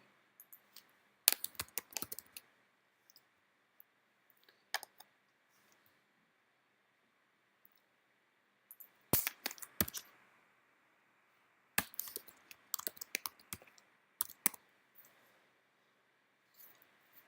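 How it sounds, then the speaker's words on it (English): Values typed into filter boxes on a computer keyboard, quiet bursts of rapid key clicks separated by stretches of near silence, close and soft. "When I type values in different filter boxes, actually I combine the filters."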